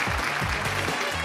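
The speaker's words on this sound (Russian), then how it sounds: "Поддержите аплодисментами." Studio audience applause on a Ukrainian daytime TV show, a steady dense burst of clapping that fills the whole moment at moderate loudness.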